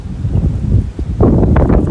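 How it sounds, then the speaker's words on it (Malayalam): Strong wind buffeting an outdoor microphone, heavy low rumbling gusts that swell and ease, loud and continuous throughout. "ഇവിടെ ഭയങ്കര കാറ്റ്"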